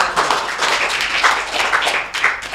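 A studio audience at a school event applauds, with dense, steady hand clapping from many people that carries on evenly without pause.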